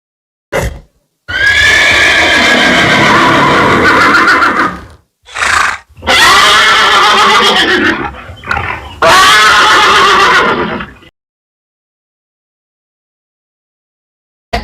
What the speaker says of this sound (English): Lord Hayagreeva neighed with extreme force, terrifying the demons.